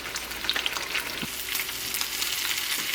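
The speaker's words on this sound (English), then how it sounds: "Listen to that sizzle." Close, crackling sizzle of fish frying in hot oil, with small pops and a light scrape of stirring.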